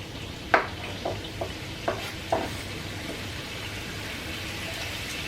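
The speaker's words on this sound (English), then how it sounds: "And then I put in the carrots and the onions first." Carrots and onions hit hot olive oil in a wok with a soft, steady sizzle, punctuated by a handful of sharp clacks from stirring in the first few seconds; no talking.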